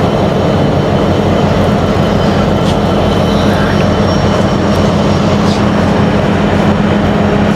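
A passenger train on the Dhaka to Jessore route stands at a junction station as passengers get off, with a loud, steady, continuous rumble and rail noise throughout and no talk.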